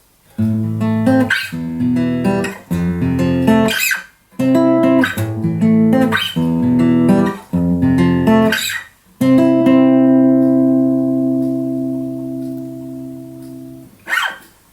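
A slow, sustained fingerpicked acoustic guitar chord progression plays alone, with chords ringing in separate phrases before a long final chord fades out and a brief strum follows.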